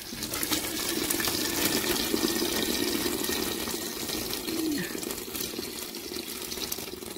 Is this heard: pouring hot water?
yes